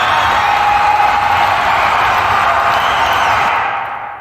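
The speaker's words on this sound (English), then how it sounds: "just here I just have a short little looping segment of a crowd applauding" A looping crowd applause ambience with heavy reverb for the Extreme Drift racing video game, a broad, washed-out roar of distant clapping and cheering that holds steady and then fades away at the end.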